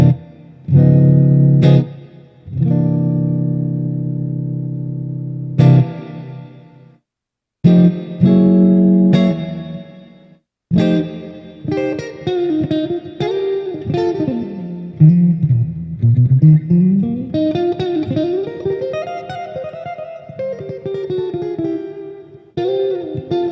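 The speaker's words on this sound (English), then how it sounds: "Keeping everything else off and just the reverb on" Electric guitar through a Boss Katana 100 head with only reverb switched on, playing sustained chords and then a winding single-note line, each phrase trailing off in a lush wash, loud and alone with no voices.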